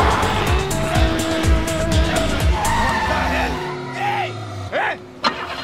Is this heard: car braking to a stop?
yes